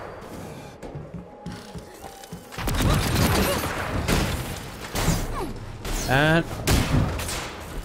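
Rapid gunfire bursts in the Avengers video game, loud and close, firing in clustered volleys with booming impacts over an ongoing battle soundscape, with a brief spoken word early on.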